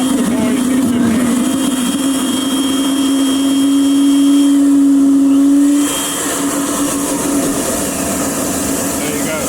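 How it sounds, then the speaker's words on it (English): Small turbo jet engine spooling up at startup: a loud, steady mechanical whine with a sustained tone that holds for several seconds, then shifts into a broader, rougher roar as it runs. "And we start the turbo spooling, and then we initiate the gas when the turbo is spooling."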